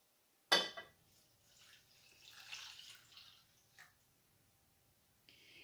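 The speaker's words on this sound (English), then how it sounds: "I'm going to add 2 cups of water." Water poured into a pot of grated soap: a sharp knock, then soft splashing and trickling that rises and fades, with a brief hiss returning at the end.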